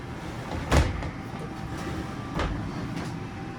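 Real glass shower doors in the bathroom of a 2021 Heartland Pioneer DS320 RV slide with two soft thuds a couple of seconds apart over a steady background hiss.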